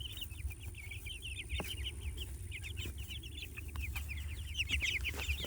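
Meat-bird chickens in a coop cluck and chatter steadily throughout, a dense flock of overlapping calls close by with a constant low hum of ventilation or machinery underneath.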